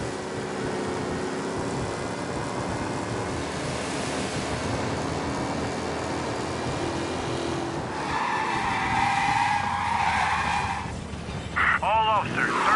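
A race car in Mafia: Definitive Edition roars steadily through city streets, then ends in a burst of tire skidding and squealing, with a voice talking over the engine noise.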